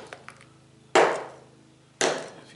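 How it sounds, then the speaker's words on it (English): A tack hammer taps on a hydrocal rock formation, two sharp, fairly loud strikes about a second apart, each with a short decaying ring, over a quiet background with faint ticks before the first blow. "I'm just actually going to take this tack hammer and try to tap around a little bit."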